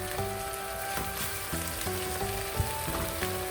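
Bagoong frying in a pan while being stirred: a steady, dense sizzle with occasional soft scrapes, heard under background music.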